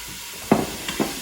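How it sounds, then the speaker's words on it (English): Soft sizzling of ground beef frying in a hot Instant Pot, with a few brief stirring scrapes and bursts, close by and fairly quiet. "so it's all sizzling"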